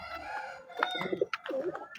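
Pigeons arriving at a loft give a cluster of close cooing and throaty bird calls with short bursts of fluttering, fairly loud and busy across two seconds, with no talking.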